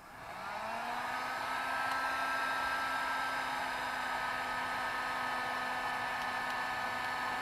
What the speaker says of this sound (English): Just pull out the heat gun and do it a bit longer.